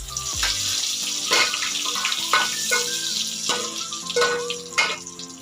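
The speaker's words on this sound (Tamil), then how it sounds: "கருவேப்பிலை நல்லா பொரிஞ்சிருச்சு." Curry leaves frying in hot oil with fennel seeds for an egg gravy, giving a steady, close sizzle and crackle with brief louder spits throughout.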